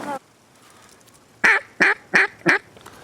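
Mallard ducks quack on a duck hunt: one call at the start, then a rhythmic run of four loud, close raspy quacks.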